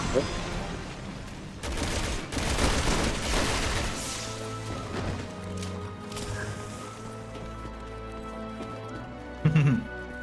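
Gunfire in the co-op shooter Resident Evil 6, several sharp bursts and a loud volley early on, then sparser shots over a game music bed, with a brief spike near the end.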